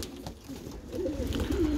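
Pigeons kept by a pigeon fancier coo softly and repeatedly while feeding on greens on a hot day, low rolling calls close by with no talk over them.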